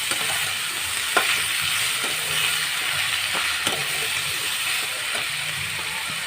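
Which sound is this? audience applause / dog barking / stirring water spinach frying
stirring water spinach frying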